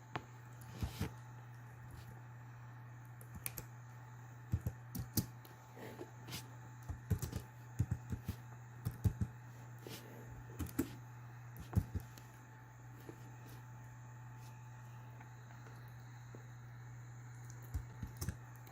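Sparse keystrokes tapped on a computer keyboard while entering a line of JavaScript code, faint irregular clicks in short bursts over a steady low electrical hum, with no voices.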